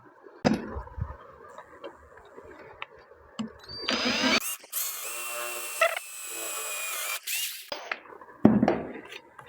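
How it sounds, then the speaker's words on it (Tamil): A small power drill bores holes in a Bluetooth speaker board. It makes a few short bursts of whirring at close range, separated by quiet handling noises and clicks, with no talk. "அதுக்கு ஹோல்ஸ் போட்டு இதை ஃபிக்ஸ் பண்ணிக்கிறேன்."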